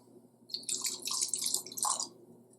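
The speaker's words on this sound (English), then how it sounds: "that was a heavy pour" Hennessy cognac poured heavily over ice, a close, quiet splashing pour lasting about a second and a half with a brief gurgle at the end, no voices.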